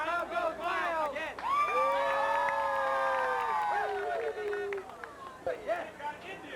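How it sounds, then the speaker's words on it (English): Young voices in a small crowd cheer and whoop wildly together, a loud sustained outburst of shouting that builds, holds and then breaks into scattered chatter. "And the crowd goes wild."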